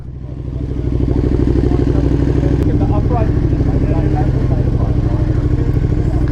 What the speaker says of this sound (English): We get to test the 2020 fucking KTM Super Duke as well today.